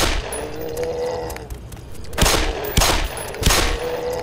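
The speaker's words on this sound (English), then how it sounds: "We'll just expend an entire clip on something which should have taken 3 bullets." Gunfire from the Black Mesa video game: a sustained burst of weapon fire followed by three loud, separate shots about half a second apart, close and sharp with no talking.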